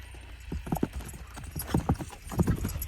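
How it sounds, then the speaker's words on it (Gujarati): Hooves of a mare clip-clop in a short, uneven run of close, sharp knocks, arriving in small clusters against a quiet background. "આ ઘોડી છે, 1 નંબરની ઘોડી, તમે જોઈ શકો છો."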